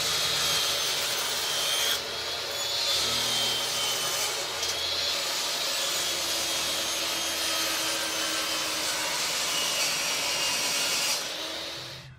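A saw cuts a thin wood strip for a cigar box guitar's stacked neck heel, giving a continuous rasping scrape with short pauses near the start and a brief stop toward the end, close and steady.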